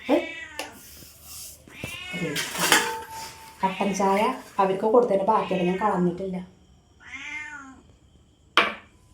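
A cat meows loudly a few times amid people talking, with occasional clinks of dishes nearby.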